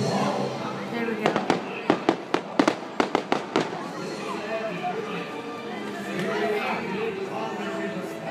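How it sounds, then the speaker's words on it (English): Fireworks at Disneyland burst in a rapid series of sharp cracks and pops at a middle distance, with crowd chatter and nearby voices throughout. "Fireworks will be over here."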